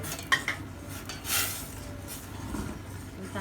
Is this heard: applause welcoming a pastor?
no